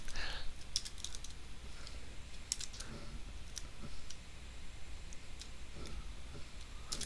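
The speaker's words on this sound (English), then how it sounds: "Click the canvas and just start typing." Someone types a chemical formula into chemistry drawing software on a computer keyboard, producing scattered crisp key clicks in irregular bursts, close and moderately loud, with no talking.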